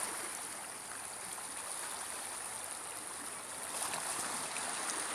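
Surf from a bay on the Sea of Okhotsk at Magadan makes a steady, broad rushing wash that holds even throughout, swelling slightly near the end, with no voices.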